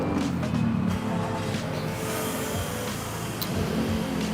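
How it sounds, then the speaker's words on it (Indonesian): A car's engine idles steadily after start-up in a repair shop where the owner is checking for an unusual engine noise, a continuous low rumble with light mechanical clatter and a few faint clicks, close and alone. "Sekarang gue akan nyalain dulu mobilnya."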